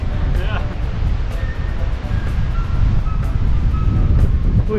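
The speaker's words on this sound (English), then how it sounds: "The wind is blowing quite a bit." Strong wind gusting at Mossel Bay lighthouse on the coast, roaring steadily and buffeting the microphone with loud low rumble, surf faintly mixed in, continuous for the whole stretch.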